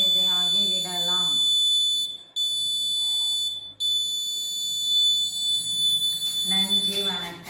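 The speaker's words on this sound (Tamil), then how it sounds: "நம்மளுக்கு உடனடியாக அலாரம் லேசர் செக்யூரிட்டி அலாரம் எச்சரிக்கை கொடுக்கும்" A laser security alarm sounds a steady high-pitched electronic tone continuously, briefly cutting out twice, with a person talking over the start and end.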